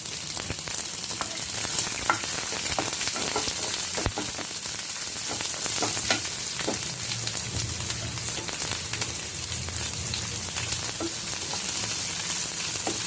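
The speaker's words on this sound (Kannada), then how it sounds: "ಈಗ ನೋಡಿ ಸಾಸಿವೆ ಫುಲ್ ಸಣ್ಣ ಸಿಡ್ದಿದೆ" Dense crackling and popping sizzle steadily as mustard seeds splutter in hot oil with curry leaves and onion, close and continuous with no voices.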